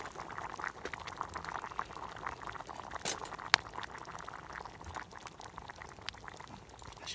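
Hot pot cooking in a round mess tin at a campsite, a faint, steady simmering burble of small bubbles with a few brighter pops and clinks, nearby and without speech.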